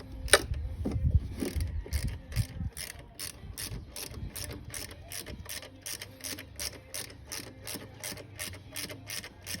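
A flex ratchet tightens a bolt during an alternator replacement on a Volvo S60. Its pawl clicks in a rapid, steady run, close and clear, after a few seconds of rubbing and handling noise.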